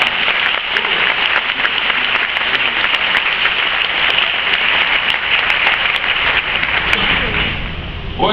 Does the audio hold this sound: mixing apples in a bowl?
no